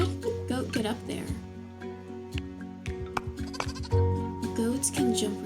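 In the cozy diorama puzzle game Woodo, a goat gives repeated short bleats in quick bursts, mixed with game sound effects and chimes.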